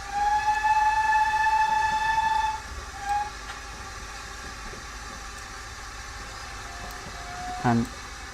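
A steam locomotive whistle in Train Simulator 2020, on the Paignton line climbing toward Churston, gives a long sustained blast for about two and a half seconds, then a short second toot over steady rumbling engine noise.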